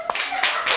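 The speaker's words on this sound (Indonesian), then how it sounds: "Tepuk tangan untuk semuanya." A classroom group claps in short bursts, several quick rounds of hand claps close by, brief and fairly light in a small indoor room.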